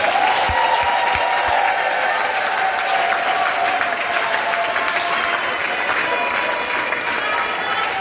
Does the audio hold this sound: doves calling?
no